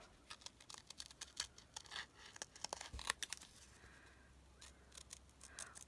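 Scissors trim the edge of a paper greeting card with quiet, crisp snips and small rustles. The cuts come in an irregular patter and stay faint and close.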